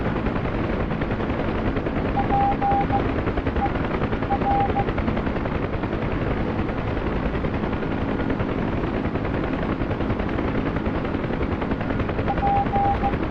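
Huey UH-1H helicopter in the DCS flight simulator, running near maximum torque during takeoff: a loud, steady rotor thump and turbine roar fills the whole span without a break, with no voices.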